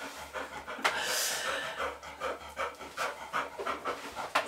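A dog pants heavily and rhythmically close by, quick breathy huffs continuing throughout with no talking over them.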